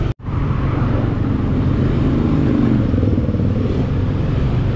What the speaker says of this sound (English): Yeah, there is traffic but not really heavy.